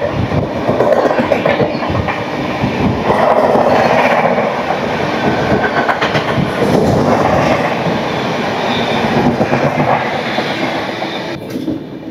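The 18309 Jammu Tawi Express rolls through a station with a loud, steady rumble, rhythmic clickety-clack of wheels over rail joints and occasional squeals, heard close by.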